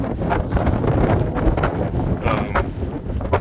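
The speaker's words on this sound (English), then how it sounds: "But a little bit breezy." Wind roars steadily across the front deck of a boat running at about 12 knots, a loud, continuous buffeting rush with gusty surges and no speech.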